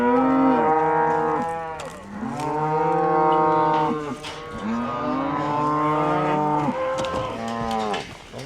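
Cattle on a ranch mooing repeatedly, several long drawn-out calls overlapping from close by, loud and alone with no talk.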